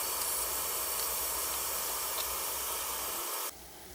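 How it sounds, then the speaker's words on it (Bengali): Chicken pieces fry in a pan with a steady, even hiss of hot oil that continues unbroken and then drops abruptly quieter near the end. "বাকি চিকেনগুলো এভাবেই ভেজে নিব"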